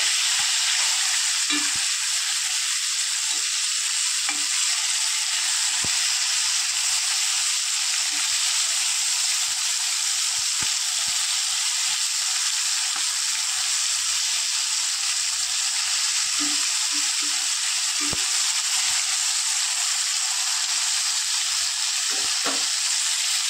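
Whole Bombay duck (lote) fish pieces sizzle steadily in hot oil in a pan, a continuous close frying hiss with occasional soft stirring and utensil clicks, no talking.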